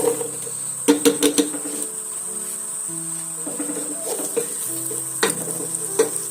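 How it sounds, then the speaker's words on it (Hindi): Sliced medium onion frying in hot oil, a continuous bright sizzle with a few sharp clinks of a utensil against the pan, no speech. "इस तरह से चॉप किया हुआ एक मीडियम प्याज डाल दूंगी अब मैं इसमें"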